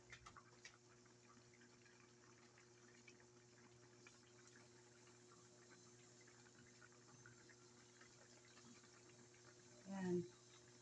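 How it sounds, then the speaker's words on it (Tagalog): Coconut cream simmers in a pot on the stove, giving a soft, steady bubbling under low room hum, with a brief louder burst of bubbling and clatter near the end. "Kumukulo na siya."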